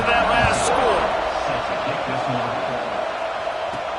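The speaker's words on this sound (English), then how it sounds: "this crowd is buzzing after that last score" A football stadium crowd buzzing after a score in a game, a dense roar of many voices heard steadily under a commentator's play-by-play.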